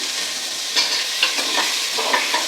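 Large chunks of cut potato fry in hot oil for khichuri, a steady broad sizzle broken by several scraping stirs of a spatula across the pan, close and alone with no talk.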